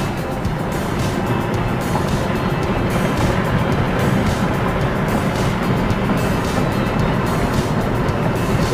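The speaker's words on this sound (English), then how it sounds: "So we're driving in Colorado Springs at the moment right now." Car driving along a road in Colorado Springs, a loud, steady rumble of engine and tyre noise from inside the vehicle, unbroken throughout.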